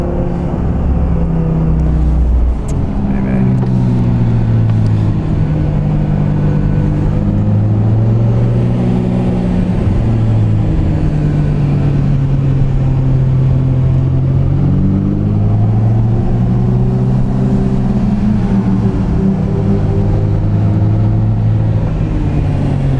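A Wiesmann MF-5 Roadster's BMW S85 V10 engine roars continuously, its pitch rising and dropping sharply as it shifts down quickly through the SMG gearbox, loud and close, in Monte Carlo, Monaco.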